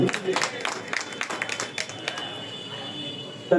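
Audience applause at a blood donation and health check camp: a ragged burst of hand clapping from a gathered crowd, thinning out toward the end.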